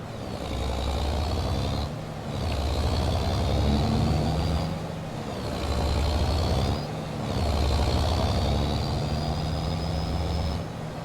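Truck engine in Farming Simulator 22 revving up and dropping away as it shifts through gears, each shift marked by a brief dip before the drone climbs again, loud and close with no voices.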